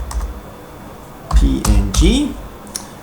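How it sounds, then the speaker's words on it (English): Quick keystrokes on a computer keyboard, a few soft taps close to the microphone, mixed with a voice speaking over them. "you can simply type .png"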